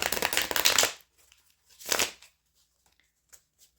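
Tarot cards are shuffled and pulled from a deck in two short riffling bursts, the first longer and louder, the second brief, followed by faint ticks of cards being handled in a quiet room.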